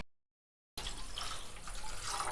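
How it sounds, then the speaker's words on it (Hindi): Water pours steadily into a cooking pot of kadhi made with lassi, a soft continuous splashing stream that begins abruptly after a brief silence and runs to the end. "अभी और पानी मैं डालूंगी"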